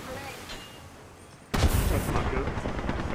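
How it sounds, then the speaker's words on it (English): A grenade explodes in the video game Apex Legends, a sudden loud burst halfway through that cuts through quieter game ambience and leaves a rumbling, sustained roar behind it. "Oh, grenade."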